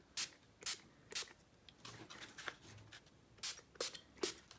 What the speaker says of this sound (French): je viens vaporiser de l'eau sur ma carte